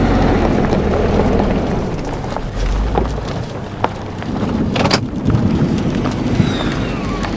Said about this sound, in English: The rain is just now coming in.